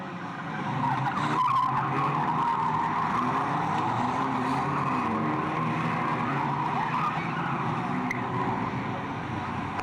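At a raceway meeting, a race car's tyres squeal in a long, loud skid into a tyre barrier, with engine noise and a crowd-like wash over the whole stretch.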